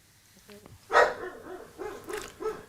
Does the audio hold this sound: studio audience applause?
no